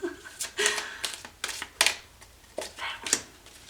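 A deck of tarot cards is shuffled by hand in irregular, close, crisp riffling bursts and slaps, with a voice faintly in the background.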